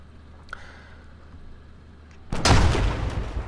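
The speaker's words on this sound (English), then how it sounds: "we should be seeing him try to hit us with an AT weapon" An anti-tank weapon fires at the player in Arma 3, a single loud, sudden blast breaking in after a quiet, low ambient stretch and leaving a rumbling, noisy tail.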